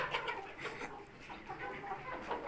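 Young hens cluck softly and repeatedly nearby, several birds overlapping in a steady, busy chatter with no talking.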